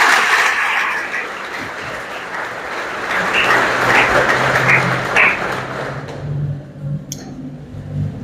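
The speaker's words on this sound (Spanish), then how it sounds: "Le vamos a dar un aplauso fuerte a Papa Francisco." An audience at a catechesis workshop applauds strongly for Pope Francis, a dense, loud burst of many hands clapping that holds for several seconds, then thins out and fades.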